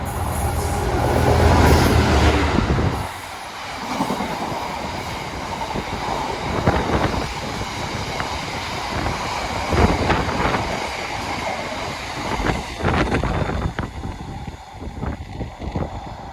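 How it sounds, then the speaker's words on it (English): A freight train rumbles loudly as it arrives at a station, with a heavy low roar early on, then steady rolling wheel and wagon noise and occasional screeches as the cars pass close by. "So tooted its horn a couple of times, knowing that it's coming into the station."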